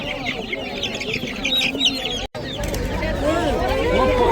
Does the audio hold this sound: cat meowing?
no